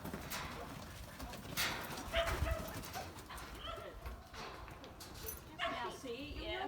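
A dog whimpering and giving short barks close by, while people talk over and around it.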